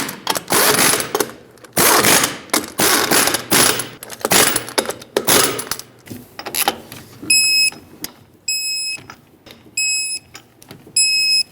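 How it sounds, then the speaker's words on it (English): A torque wrench tightens wheel lug nuts on a 2012-2017 Hyundai Accent after rear shock replacement, giving loud ratcheting bursts in a workshop followed by several short, high, evenly repeated beeps. "Reinstall all 4 lug nuts, snug them up in a cross pattern, and also in a cross pattern,"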